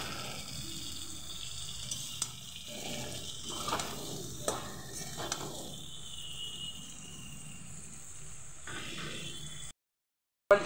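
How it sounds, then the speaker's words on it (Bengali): Pumpkin pieces go into spice paste frying in oil in a home kitchen pan, bringing a faint, low sizzle with soft stirring scrapes and a few small clicks, quiet throughout before cutting to silence. "মশলাটা দেখুন তেল ছাড়তে শুরু করে দিয়েছে, তার মধ্যেই আমি দিয়ে দেবো কুমড়োগুলো"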